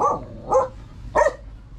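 A dog barks three times, loud and close, in short sharp woofs spaced about half a second apart over faint background noise.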